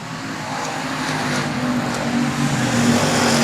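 A pack of race cars powers out of the fourth corner at a dirt-track raceway during a B main event, engines roaring loudly and continuously, with overlapping drones rising and falling as the cars pass.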